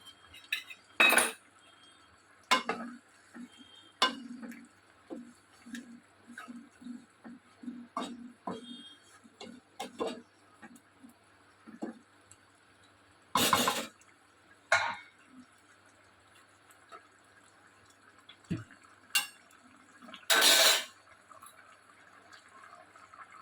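Milk and flour paste going into a pot of Bengali shukto with ash gourd and being stirred, quiet scattered clinks and scrapes of a utensil against the pot with a few louder pours and knocks.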